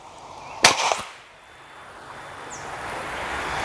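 A single sharp crack from a Pasopati stainless PCP air rifle being test-fired for velocity, loud and close, with a short decaying tail and then quiet room tone.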